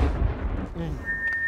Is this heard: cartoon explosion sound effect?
yes